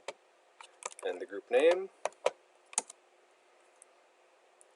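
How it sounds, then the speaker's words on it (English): Quick bursts of computer keyboard typing as commands are entered on a NetBackup appliance, light clicks mixed with someone talking calmly nearby. "So I'm going to type grant administrator role to the group"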